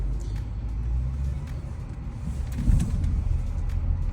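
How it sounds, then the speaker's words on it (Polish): A car brakes hard on a winter road, pushed slightly past the ABS limit until the front wheels lock, heard as a steady low rumble of tyres and drivetrain that swells briefly partway through. "Wcisnę hamulec na granicy działania ABS-u i troszeczkę bardziej."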